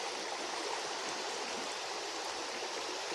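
A creek near Sedona, Arizona runs steadily, a close, unbroken rush and babble of flowing water with no voices.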